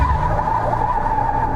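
A heavy 2020 Toyota 4Runner TRD pushed hard on a winding mountain road, engine droning steadily with a tonal tire squeal running loud and continuous throughout, close and unbroken by talk.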